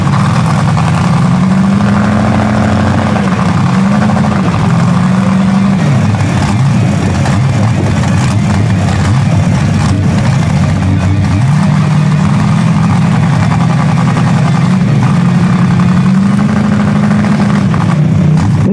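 A mud bog truck, running rough, spins its tires and digs through a muddy bounty hole pit, its loud engine revving up and down continuously with wavering pitch for the whole stretch.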